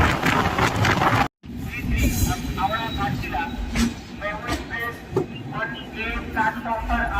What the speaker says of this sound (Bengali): আমাদের ট্রেন গীতাঞ্জলি এক্সপ্রেস এখন এসে পৌঁছেছে খড়গপুর জংশনে